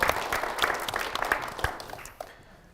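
A church congregation applauds a woman being welcomed forward during a Korean church service, scattered claps dense at first then thinning out and fading within a few seconds.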